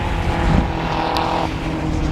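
Volkswagen Scirocco race cars brake into a corner at Snetterton circuit, a loud steady engine drone with a sustained whining tone that cuts off partway through, heard close.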